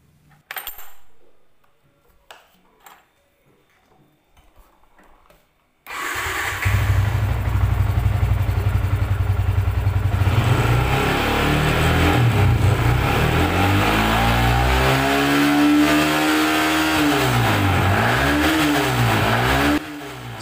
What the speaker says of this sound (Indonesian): Saat sepeda motor ini kita tarik gasnya dan di RPM berapa ribu itu ya